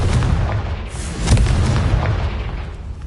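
A booming blast from the Confringo spell in a Harry Potter video game, a deep explosive rumble with a sharp burst partway through over continuous low game noise.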